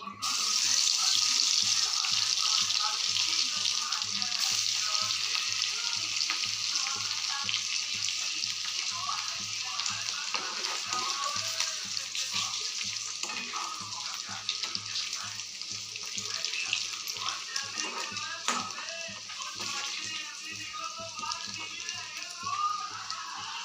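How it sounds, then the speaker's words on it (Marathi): Garlic fries in oil in a kadai with a steady, hissing sizzle that runs throughout, fairly quiet and even, with occasional small crackles and faint background sounds. "यामध्ये मी कढईत तेल टाकलं, तर लसूण टाकते।"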